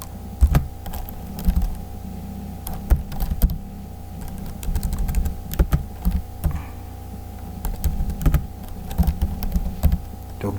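Rapid keyboard typing on a computer keyboard while HTML code is written for an add-products form; close, crisp clicks come in uneven bursts and short pauses, with no talking.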